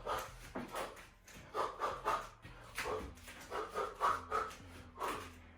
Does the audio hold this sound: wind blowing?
no